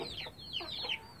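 A Desi Aseel hen in a Sindh breeding setup clucks in a quick run of three or four soft, rising calls, close and quiet, with no talking.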